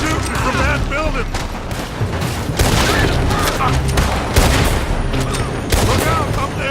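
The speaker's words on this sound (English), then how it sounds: "They're shooting from that building!" Gunfire rings out in a Red Dead Redemption 2 shootout, with rapid repeated shots and booms crackling throughout, loud and dense, mixed with shouted voices.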